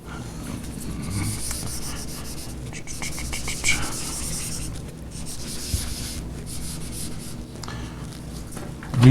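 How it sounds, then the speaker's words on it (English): Rubbing and scratching of an eraser wiping a whiteboard clean after graphing a sine curve, a steady close scrubbing texture with brief strokes and pauses, no talking. "I'll go ahead and erase everything we don't need."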